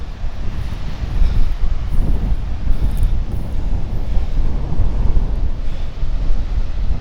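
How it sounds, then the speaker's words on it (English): Big ocean waves roll in against the English coast, a steady loud wash of surf mixed with wind buffeting the microphone, continuous for several seconds with no voices. "Big waves rolling in."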